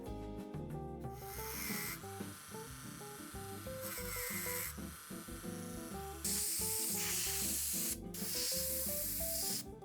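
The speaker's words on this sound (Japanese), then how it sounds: "接点が真っ黒です。 薬で溶かしてみます。" Chemical cleaner hisses from a spray can in several long bursts onto blackened contacts inside a Sansui AU-D607X amplifier, close and loud, with short pauses between sprays.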